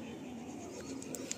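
Pigeons in a large loft of Andhra birds from South India coo softly and steadily, with a few brighter chirps near the end over a constant low background.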